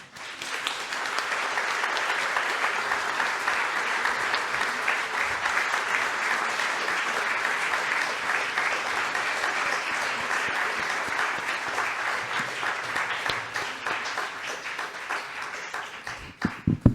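An audience applauds after a lecture on early printing and the book trade in Venice, sustained, even clapping from many hands that holds steady for a long stretch before breaking off into a few final claps.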